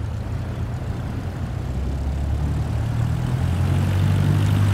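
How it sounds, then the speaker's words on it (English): Propeller aircraft engine in Microsoft Flight Simulator 2024 throttling up for taxi, a steady low drone whose pitch and loudness rise gradually over the few seconds, with no talking. "Now, gently increase throttle to get the aircraft moving."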